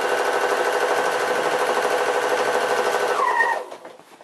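Sewing machine fitted with a walking foot stitching binding onto a thick quilt, a steady fast mechanical whir running loud and close for about three seconds before slowing to a stop.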